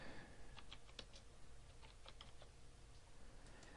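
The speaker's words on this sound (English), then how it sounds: "you can type in a topic" Quiet clicks of typing on a computer keyboard, a short run of irregular keystrokes close by, with no voices.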